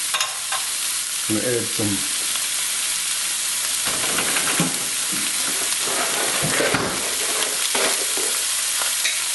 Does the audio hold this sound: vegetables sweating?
yes